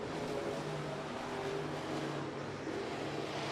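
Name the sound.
midwest modified race cars racing at speedway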